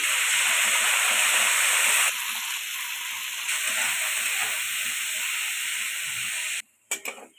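Yard-long beans frying in hot oil for a Bengali mixed vegetable dish, a steady loud hiss and sizzle throughout that drops away abruptly near the end, followed by a few faint clinks.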